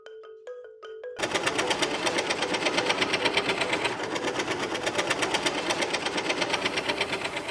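A scroll saw cuts openwork carving holes into a wooden wall decoration with a Lampung motif, giving a steady, rapid, close-up reciprocating buzz after a few brief electronic tones at the start.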